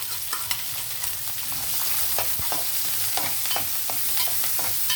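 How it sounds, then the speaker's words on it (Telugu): Onions and curry leaves sizzle and fry in a wide pan while a spoon stirs them, with steady loud crackling broken by scraping strokes and no voices. "ఉల్లిపాయలు కరివేపాకు వేసేద్దాం."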